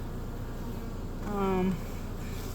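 Bees hum steadily around a hive in spring, a low insect drone throughout with a brief louder, nearer buzz passing close by midway.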